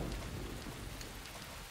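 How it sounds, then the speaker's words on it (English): Steady rain pouring in the video game Deadly Premonition, a dense continuous hiss of falling water heard on its own, close and even throughout. "Oh, look, it's raining."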